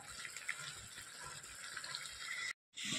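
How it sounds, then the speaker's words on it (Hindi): Water being poured into egg curry masala while it is stirred, a steady close gushing splash that cuts out briefly near the end. "हल्का हल्का पानी डाल कर चलाते रहिए"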